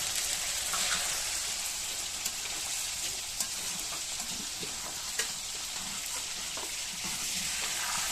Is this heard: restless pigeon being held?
no